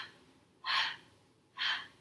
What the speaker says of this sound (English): percussion breathing